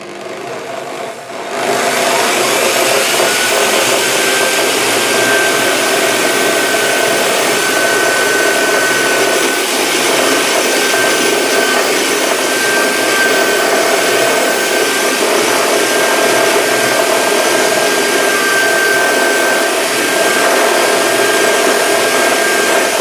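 Power tool grinding into a disc detainer shutter lock held by hand without a vise, a loud steady high-pitched whine starting after a brief pause and running continuously without talk.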